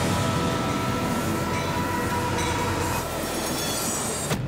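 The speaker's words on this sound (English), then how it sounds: "The incredible self-steering system enables the locomotive to thunder through the curve of Ross Bay" A massive freight train with a self-steering locomotive rounds a curve at a rail junction. Its wheels roll loudly and steadily with a grinding rumble and high squeals, then a brief sharp clank comes near the end.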